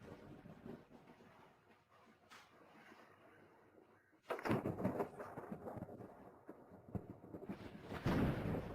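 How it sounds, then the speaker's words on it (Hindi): Thunder rolls outside during a storm, a faint, muffled rumble that swells into louder cracking bursts about halfway through and again near the end. "बाहर बिजली कड़क रही है, मुझे डर लग रहा है।"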